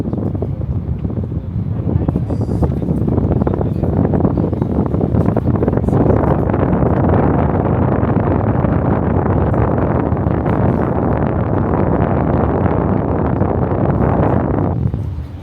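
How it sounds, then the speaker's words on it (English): Strong wind buffets the microphone in a loud, rumbling roar that gusts and holds for the whole stretch, high up on the Palm, a man-made island in the UAE. "it's real windy up here"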